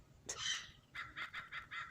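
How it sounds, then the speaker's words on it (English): A crow gives one drawn-out harsh call followed by five short, evenly spaced caws, clear and fairly close outdoors with little else around. "There's another bird, the crow."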